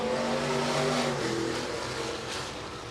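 USRA stock cars roar close by in a heat race at Rapid Speedway, their engines loud and steady. The rumble shifts pitch slightly as the cars pass, with no voice over it.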